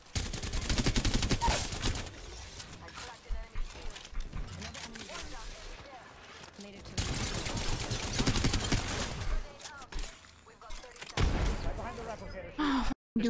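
Gunfire in a ranked solo queue shooter match, bursts of rapid shots and blasts coming in dense loud clusters with pauses between, under excited voices talking and gasping.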